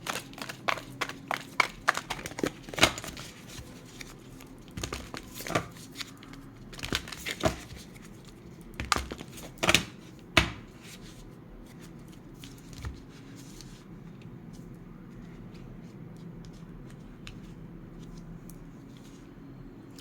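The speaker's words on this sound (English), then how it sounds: "I'm going to shuffle the deck." A deck of tarot cards is shuffled by hand in close, quiet surroundings, giving a run of soft papery riffles and taps in irregular bursts that thin out toward the end.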